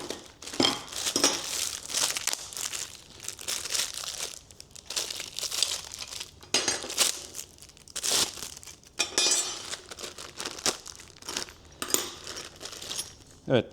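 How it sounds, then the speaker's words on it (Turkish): Parts of a Jack A5E-A thread stand being taken out of a plastic bag, close crinkling of plastic with light metallic clinks of parts, in bursts throughout. "Tüm malzemeleri poşetinden çıkartacağım."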